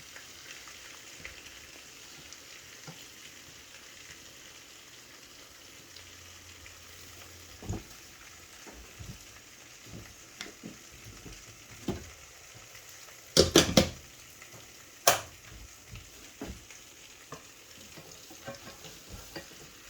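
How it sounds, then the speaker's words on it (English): Butter melting in a saucepan for fudge brownies gives a soft, steady low sizzle and faint crackle throughout, with a few brief louder clinks or stirring knocks near the end; no talking. "That butter's just about melted into the saucepan."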